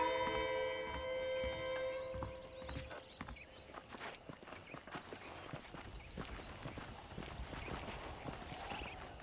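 Horse hooves clip-clopping in the Red Dead Redemption video game, a steady rhythmic patter of hoofbeats at walking pace, with melodic tones fading out over the first couple of seconds.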